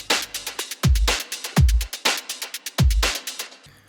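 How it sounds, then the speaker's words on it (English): A breakbeat drum loop plays alone, with crisp snappy hits and busy hi-hats over several booming deep kicks in a syncopated rhythm, loud and close. "All of the drums together sound like this."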